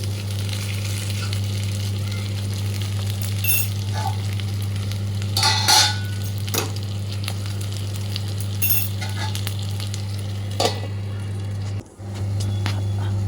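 Onion stirred and fried in a pan until reddish for paneer matar, a steady close sizzle with occasional scraping strokes of the spoon over a constant low electrical hum.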